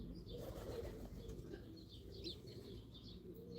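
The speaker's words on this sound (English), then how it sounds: "We have jackdaws coming now, swooping down for the suet." Jackdaws swoop down to a garden suet feeder, soft wing flaps and faint fluttering mixed with scattered distant bird chirps over a low outdoor background, no talk.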